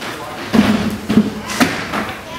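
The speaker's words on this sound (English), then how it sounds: "two smashing, sickening thuds" Two heavy thuds of bodies striking the ground in a live radio drama reenactment of a Superman show, loud and close, about a second apart with a fainter third impact after.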